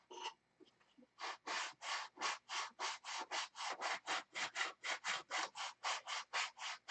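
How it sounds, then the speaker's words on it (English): A paint stick wrapped in 80 grit sandpaper rasps back and forth in quick, even strokes, about twenty close, loud scrubbing passes after a brief quiet start. "Paint stick with the 80 grit sandpaper on it."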